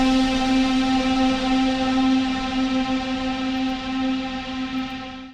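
Dirty preset synth lead from the Flash Multi-Kit sounding a single sustained, buzzy tone that drones steadily and loud for several seconds with a rich harmonic edge, fading slightly at the end.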